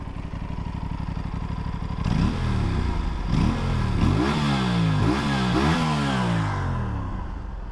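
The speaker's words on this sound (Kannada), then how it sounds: "ಗಾಡಿ ಒಂದು ಸತಿ ಸ್ಟಾರ್ಟ್ ಮಾಡ್ತೀನಿ ನೋಡಿ ಎಕ್ಸಾಸ್ಟ್ ಹೆಂಗಿದೆ ಅಂತ" An Aprilia RS 457 parallel-twin motorcycle engine idles with a throbbing exhaust pulse, then revs up sharply several times in a row, loud and close.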